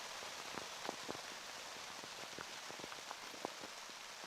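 Rain falling steadily on a golf course during a junior tournament round, a soft, even hiss with scattered drips and taps, faint and continuous with no voices.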